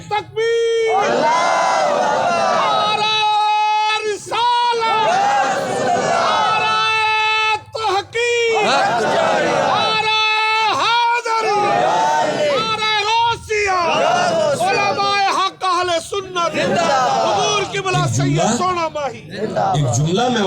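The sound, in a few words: crowd standing and chanting a slogan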